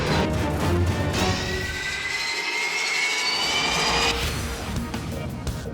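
Jet engine of a Life Flight air ambulance plane, a loud steady roar with a high whine that holds throughout and stays close, with no voices over it.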